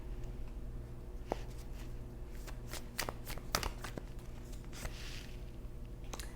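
Tarot cards being shuffled to draw a single card, a steady soft riffling patter with a few sharper snaps near the end, close and alone with no talk.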